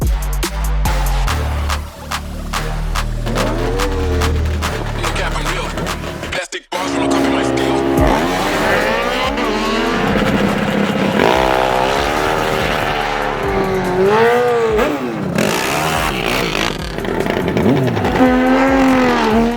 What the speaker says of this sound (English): I'm talking about unique motorcycles you probably won't see at any other drag race.